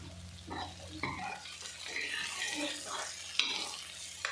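Bitter gourd and onion fry in a pan with soft sizzling and intermittent scraping stirs, a few clinks of the utensil, fairly quiet and close.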